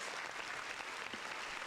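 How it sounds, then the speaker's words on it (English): Audience applause at a battle rap podcast taping, a brief dense wash of clapping that is steady and fairly faint throughout. "Round of applause."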